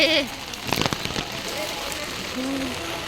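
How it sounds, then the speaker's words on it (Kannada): Heavy rain pours steadily around a temple visit in Sringeri, a dense continuous hiss with nearby voices talking over it. "ಇಷ್ಟು ಜೋರ್ ಮಳೆಯಲ್ಲಿ ಹೆಂಗ್ ಹೋಗೋದು ಒಳಗಡೆಗೆ"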